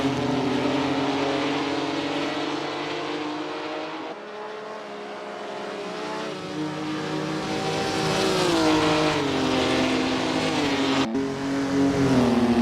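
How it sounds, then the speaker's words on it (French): Racing cars at the 1951 Spa Grand Prix roar past in a loud engine drone, with the pitch rising and falling as they accelerate, change gear and sweep by. "Fangio, après un départ prudent, augmente peu à peu la cadence et au 6e tour, il double Ascari pour le gain de la seconde place."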